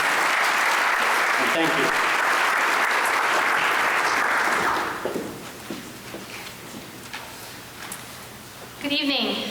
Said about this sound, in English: Give them one more round of applause, would you?